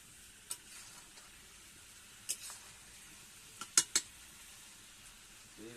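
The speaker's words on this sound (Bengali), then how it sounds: "এই রান্না হচ্ছে, মাংস বুঝতে পারছেন" Meat sizzles in a pan over a wood fire outdoors, a soft steady fry broken by several sharp metallic clinks and scrapes of a utensil against the pan.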